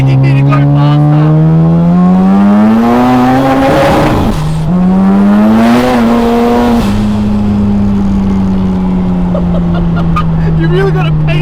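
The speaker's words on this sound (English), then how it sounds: "That engine is just rapping away, and it sounds so good. It's synonymous to that rotary noise" A 730 hp turbocharged 13B rotary engine in a Mazda RX7 FB revs hard while driving, its pitch climbing through gears with brief gaps at shifts, loud and close, with a voice faintly present.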